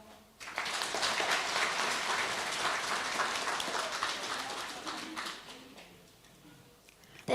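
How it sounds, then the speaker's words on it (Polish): Audience applause at a school grandparents' day performance by third-grade classes, a steady, dense clapping that holds for several seconds before fading out near the end, with no voices over it. "Prosimy o gorące brawa."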